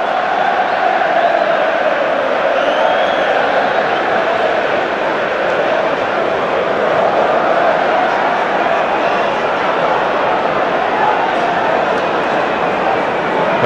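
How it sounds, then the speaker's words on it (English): A packed Premier League crowd at the Hawthorns during West Bromwich Albion versus Aston Villa sends up a broad, sustained roar of cheering and chanting, loud and unbroken from start to finish. "A little bit of festive cheer for the Hawthorns crowd."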